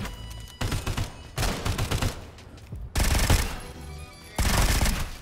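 Bursts of automatic gunfire from a firefight in the video game Sulfur: four loud, dense volleys of rapid shots, each lasting about a second, separated by short quieter gaps with distant crackle.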